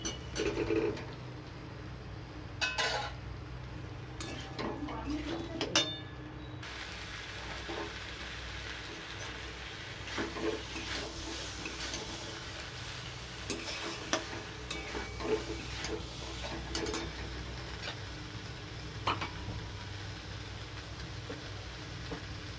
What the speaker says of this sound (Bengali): এবার দিয়ে দেবো সিদ্ধ করে রাখা আলু।